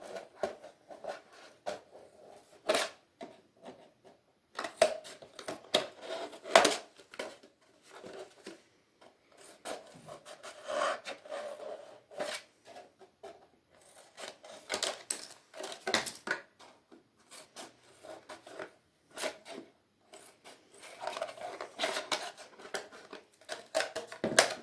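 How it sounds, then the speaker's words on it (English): Scissors snipping through fabric and paper pieces for a patchwork elephant craft, a quiet series of irregular close cuts and rustles with short pauses between them, no talking. "Cut on one side into the middle and then cut on the other side"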